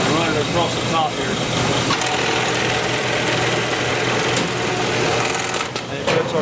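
A bag stitching machine sews closed the top of a seed bag in a seed treatment and packaging setting, a loud continuous mechanical rattle with someone talking over it.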